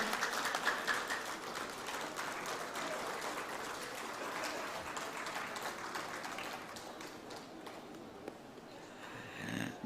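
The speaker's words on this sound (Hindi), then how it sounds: "खड़े होकर जरा जोरदार तालियां हो।" Audience at a TV news channel launch event gives a standing ovation, a fairly quiet, steady wash of clapping with scattered louder claps and some murmuring, thinning toward the end.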